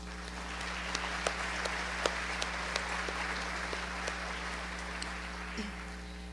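Steady audience applause greets new members at a Tri-City Regional Chamber State of the Cities gathering, many hands clapping in a continuous wash with a few sharper claps standing out, over a constant low hum.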